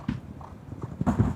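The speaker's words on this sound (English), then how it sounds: "horse at the back there with the white faces, of course, called Meatloaf" Racehorse hooves clip-clopping on turf as a horse with a white face canters and jumps during schooling in pairs, steady thudding beats rising into a louder burst near the end, no talk.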